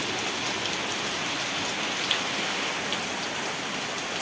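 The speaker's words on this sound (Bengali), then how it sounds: "ছাদে বৃষ্টির শব্দ শুনতেই অনেক মজা" Heavy rain pours steadily onto a rooftop, making a dense, even hiss of drops with an occasional sharper tap. No voices are heard.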